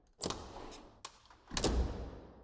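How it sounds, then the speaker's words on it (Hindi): A bedroom door opens as a horror-story sound effect: a muffled thump and soft rushing swing, a brief knock, then a louder, fuller whoosh that fades. It is close and has no voices over it. "उसको अपने कमरे का दरवाजा खुलने की आवाज आई"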